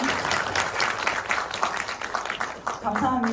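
Clapping from an audience at a mecha figure and toy exhibition event, a continuous patter of many hands that thins toward the end as a presenter's voice comes in over it.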